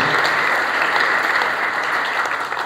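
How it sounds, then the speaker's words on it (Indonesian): Loud, sustained applause fills an Indonesian church service as the congregation claps for Jesus, a thick, uniform roar of hands that barely varies from start to finish. "Beri tepuk tangan yang terbaik buat Tuhan Yesus"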